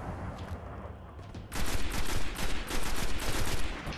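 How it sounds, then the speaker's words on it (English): Heavy rocket fire in the PS4 game Destiny: a dense, loud barrage of booming blasts and explosions that surges suddenly after a quieter rumble of battle noise. "they're firing some huge rockets at us"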